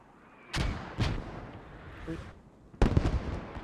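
Mortar rounds land in a team-based war video game match, with a few booming impacts spaced over several seconds, heavy and rumbling with a rolling tail under a low background.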